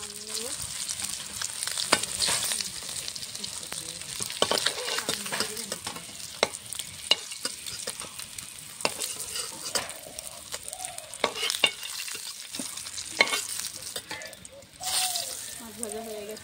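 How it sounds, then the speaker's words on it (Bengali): Katla fish fries in hot oil in a pan, a continuous sizzle broken by repeated sharp scraping and stirring clicks, close and fairly loud throughout, with a voice talking over parts of it. "মাছটা ভেজে নিয়েছি লাল লাল করে, এখন নামিয়ে নেব।"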